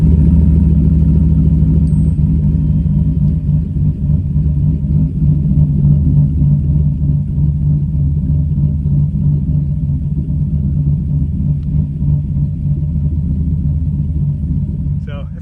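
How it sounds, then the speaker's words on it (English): A lifted 2012 GMC Sierra 1500 pickup's engine, without a full exhaust, idles with a steady, low rumble throughout, even and unchanging, with no revving or other sounds standing out. "We're gonna let it just idle so you guys can hear it"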